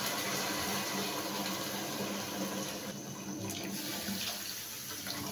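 Water pours steadily from a tap or vessel into a soup pot while making vegetable soup, a continuous, fairly quiet rushing splash with no talk.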